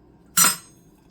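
Boiled potatoes and chickpeas tipped from a pressure cooker into a separate steel vessel for chana masala, giving one short, close metallic clatter and scrape that fades within a moment in a quiet kitchen.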